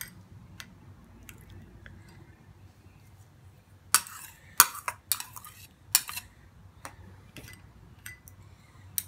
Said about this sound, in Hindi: और मैं इसको छान लूंगी।